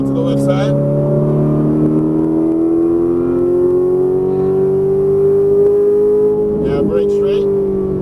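Ferrari 458 Italia accelerating out of a turn around cones on a course, engine pitch climbing steadily in a loud, close whine, with a voice talking over it briefly near the start and end.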